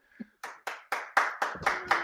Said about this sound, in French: Applaudissements pour Roadblock.